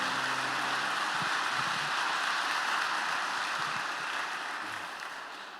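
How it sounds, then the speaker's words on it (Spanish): A church congregation claps for Jesus Christ during a Sunday morning service, a steady wash of applause that holds, then slowly fades away. "Fuerte ese aplauso al Señor Jesucristo en esta mañana."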